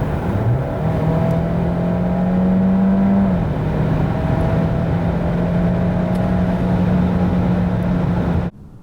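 Steady engine roar from a 2022 Opel Grandland 1.6 plug-in hybrid SUV with 300 hp accelerating hard from 90 to 140 km/h, pitch rising once then holding a sustained high drone until it cuts off abruptly.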